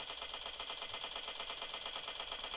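AKM assault rifle firing full-auto in PUBG Mobile Lite, a fast, steady rattle of rapid shots running unbroken throughout at moderate level, with no talk.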